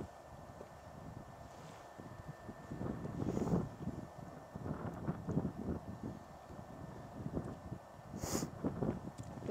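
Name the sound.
high wind on a cliff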